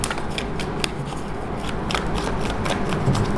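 Tarot cards are shuffled in a steady, continuous riffling rustle over a dense background hum, with soft repeated flicks near the microphone.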